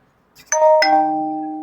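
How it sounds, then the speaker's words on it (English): A phone chime sounds twice in quick succession, bright two-note electronic tones that ring on and sustain, close and clear with no talking over them. "Phone had to chime."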